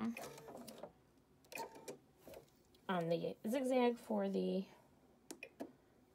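A domestic sewing machine with a presser foot runs a straight seam on a scrub or biker cap, in short uneven bursts with pauses. A voice talks nearby between and over the runs.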